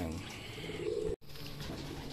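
Racing pigeons at a training flight loft in Pagsanjan, Laguna, cooing steadily and close amid a busy, noisy outdoor background, with one brief dropout midway.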